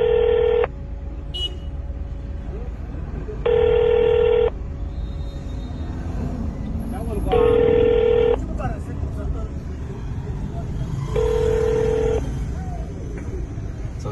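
Four evenly spaced bursts of telephone keypad tones sound while a French-language automated phone menu plays, each burst a crisp, steady beep lasting about a second against a low background hum.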